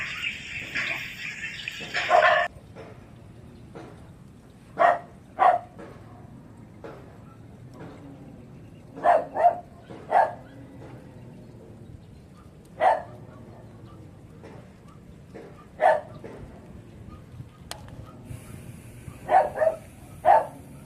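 Several dogs bark near a flood-control retaining wall construction site between Marikina and Pasig, with sharp single and double barks scattered irregularly over a quiet outdoor background and a brief hiss at the start.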